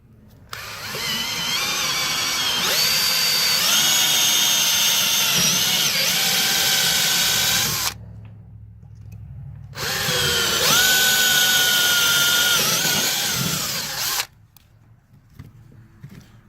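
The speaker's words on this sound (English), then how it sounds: "Go back to my smaller drill bit just to put those first holes in there. Make a pilot hole." A power drill with a small bit whines at high speed in two long bursts, drilling pilot holes into aluminum on a Bennington SX21 pontoon boat, stopping briefly between them, close and loud with no talking.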